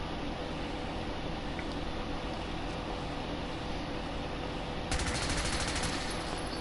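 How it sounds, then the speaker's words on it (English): A modded gun, the Boom Boom Ass Blaster, in Fallout 4. A steady background hum runs until a burst of rapid automatic fire starts near the end and keeps rattling to the close. "Let's test out our new gun."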